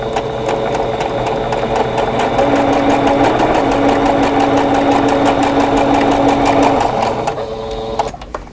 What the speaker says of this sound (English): I'm going to stitch 1/4 inch away from this drawn line on both